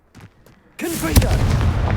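A faint voice, then a sudden loud explosive blast with a bright crackle and sustained rumble from the Confringo fire spell in Hogwarts Legacy.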